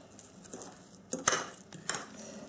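A spoon scrapes and clinks around a bowl while the börek filling with chopped parsley is mixed, a few soft clattering strokes close by with two sharper knocks in the middle.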